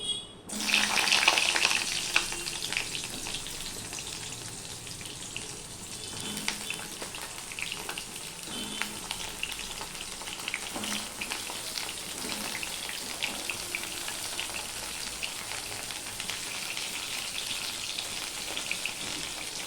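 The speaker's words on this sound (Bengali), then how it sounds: "সবার প্রথমে আমি পটলগুলো দিয়ে দেবো" Pointed gourd (potol) drops into hot oil with a loud initial splash, then fries with a steady, crackling sizzle and scattered pops that continue evenly throughout.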